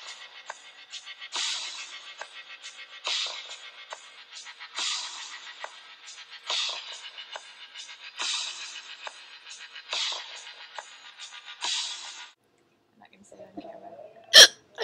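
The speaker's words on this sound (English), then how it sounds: "I never have hiccups." Repeated hiccups at a steady rhythm of roughly one every 1.7 seconds, close and fairly loud, followed by a short pause, a faint low murmur and one sharp final click.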